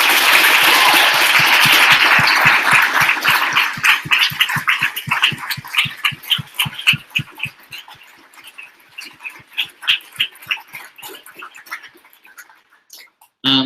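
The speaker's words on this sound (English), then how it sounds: "let's have a huge round of applause for our panelists" Audience applause for panelists after a Bay Area panel discussion on universal basic income, starting as dense full clapping and thinning out into scattered individual claps that fade away.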